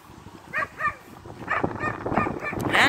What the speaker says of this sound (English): And there's a dog going off.